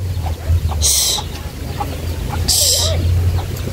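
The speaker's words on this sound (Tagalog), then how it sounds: "Yung manok." A chicken clucks nearby in a few short bursts, with a low background hum and faint voices.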